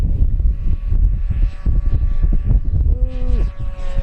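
A Durafly P-40N 1100mm model airplane flying inverted drones steadily overhead with buzzing propeller tones and gusty wind noise, the pitch shifting as it passes.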